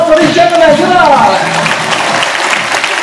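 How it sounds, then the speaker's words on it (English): Audience applause in a cruise ship theater aboard Royal Caribbean's Spectrum of the Seas, a steady wash of clapping throughout with a voice talking over the first second. "Let's give a round of applause for this gentleman."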